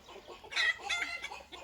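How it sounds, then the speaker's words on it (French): Chickens let out a quick burst of agitated, high-pitched clucking after being frightened by a cat, close and fairly faint, fading after a moment. "c'est le chat qui a fait peur aux poules"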